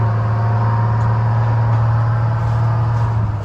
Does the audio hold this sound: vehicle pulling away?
yes